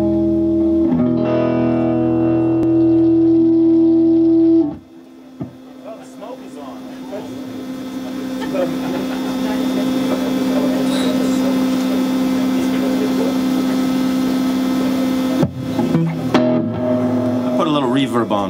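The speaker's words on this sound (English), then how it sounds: "Reverb on for the surf effect, you know?" Electric guitar notes ring out with heavy reverb and distortion, sustained and washy, followed by a long droning tone and a few more plucked notes.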